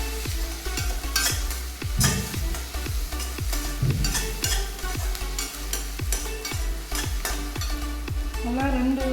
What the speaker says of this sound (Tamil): உப்பு போட்டதால் கொஞ்சம் நல்லா வதங்கலாம்.